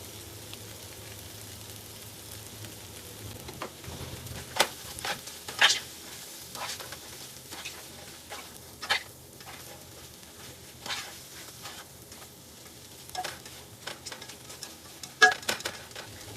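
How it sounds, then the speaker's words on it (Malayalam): Soya chunks sizzle steadily while frying in a pan with tomato and a little coconut oil, with frequent scraping and clinking strokes of a spoon stirring the mixture; no talking. "അപ്പം സോയച്ചങ്ങ് ഇട്ടിട്ട് നന്നായിട്ടൊന്ന് മിക്സ് ചെയ്ത് കൊടുക്കുക."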